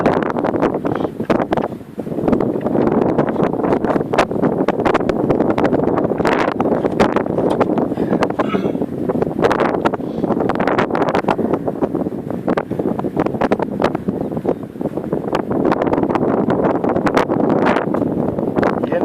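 Steady light wind buffets the microphone with a constant rumbling roar near beehives, and faint voices can be heard beneath it.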